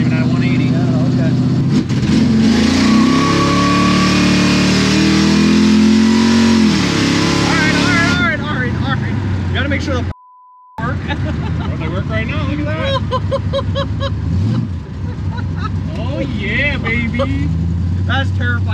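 A Chevy Nova's engine revs and sputters unevenly at close range, loud and rough, with people talking over it throughout and a brief dropout midway.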